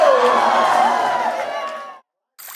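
Crowd at a strongman contest roars and cheers in one sustained, loud wave for about two seconds, then cuts off abruptly.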